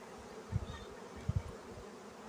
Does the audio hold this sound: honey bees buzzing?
yes